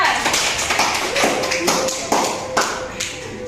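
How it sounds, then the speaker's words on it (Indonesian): An elementary classroom applauds a pupil with a burst of claps and taps from several hands, loud and close, with voices faintly mixed in. "Tepuk tangan dulu untuk Reza"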